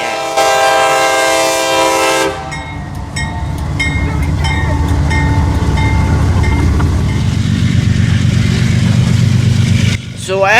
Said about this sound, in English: B157 is a coach train heading to Gary,